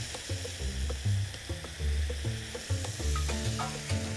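Pork tenderloin pibil, marinated, cooking in a pan with a loud, steady sizzle and frying crackle, with occasional stirring clatter throughout.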